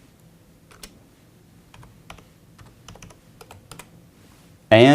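Computer keyboard keys click in sparse, irregular taps, quiet and close, ending in a louder burst as enter is pressed.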